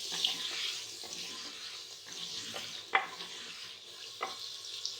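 Washed potatoes frying in a pan for aloo methi: steady close sizzle with occasional scraping stir strokes and light clinks, moderately quiet and with no talk.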